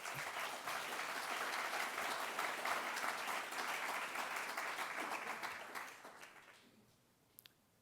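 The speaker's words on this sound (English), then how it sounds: "It's funny that all the applause is coming from this side of the room." Audience applause at a town inauguration ceremony in North Hempstead, a sustained wash of clapping from part of the room that swells, holds, then tapers off over the final seconds, leaving a few scattered claps.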